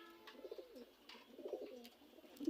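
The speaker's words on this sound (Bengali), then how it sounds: "আপনারা দেখতে পাচ্ছেন যে এখানে একজোড়া সিরাজি কবুতর" A breeding pair of big-sized Sirazi pigeons, one male and one female, gives soft low rolling coos, faint and repeated in a quiet setting.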